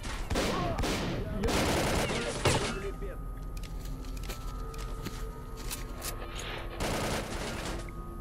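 Rapid gunfire volleys in the shooter S.T.A.L.K.E.R.: Call of Pripyat, loud bursts at the start, then a quieter gap of ambient game noise before another short burst near the end.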